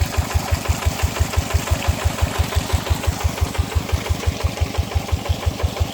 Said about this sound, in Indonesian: Dengan modal 1 juta kita sudah bisa memodifikasi traktor menjadi pompa air.